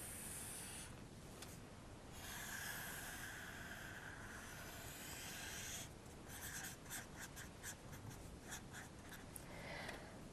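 A pen scratches across paper while sketching a graph during a maths lesson, with long scraping strokes followed by quick short marks, close and quiet, without speech.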